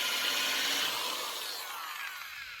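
Drill bit slowly boring through a soft brake line during a front brake upgrade on a first-generation Toyota Tundra or 4Runner, a steady close grinding hiss that gradually eases off, with no talking.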